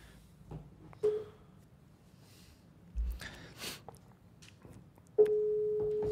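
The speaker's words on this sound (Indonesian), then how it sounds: "Orang pertama coba ditelepon." An outgoing phone call to a caller plays through a speaker, with short telephone tones, a brief rustle and then a steady ringback tone, all faint and intermittent.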